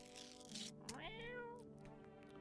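A cat in the video game No, I'm Not A Human gives a single clear meow with a rising then falling tone, close and fairly quiet over a faint background hum.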